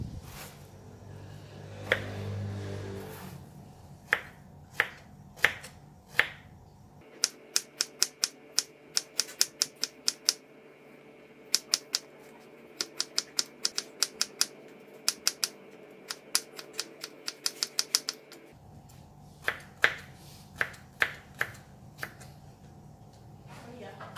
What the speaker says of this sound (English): I'm going to quickly remove the skin and cut it into smaller pieces